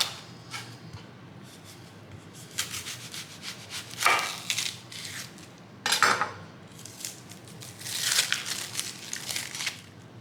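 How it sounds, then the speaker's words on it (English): A knife slicing a sweet onion into thick rings on a cutting board, close rhythmic crunchy strokes with sharper thuds as the blade meets the board, no talking. "I'm just gonna cut it now in rings."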